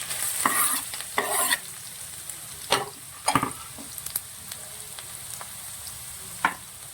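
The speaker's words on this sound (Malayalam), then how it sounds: "നന്നായിട്ട് ഈ സവോള ഇഞ്ചി എല്ലാം മൂപ്പിക്കുക" Onion, ginger, garlic and green chilli sautéing in a pan for a Bengali fish curry, a soft steady sizzle broken by several sharp scraping strokes of a spoon, close and alone.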